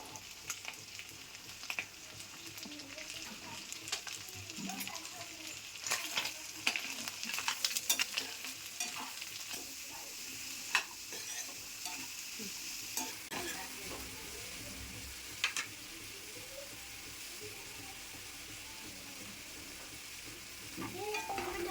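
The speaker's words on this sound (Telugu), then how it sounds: "ఆల్రెడీ కట్ చేసి పెట్టుకున్న ఉల్లిపాయలు పచ్చిమిర్చి వేసి వేయించుకుందాం" Onions and green chillies frying with mutton kheema in a pan, a steady soft sizzle with scattered scraping stir strokes throughout, moderately close and fairly quiet, no voices.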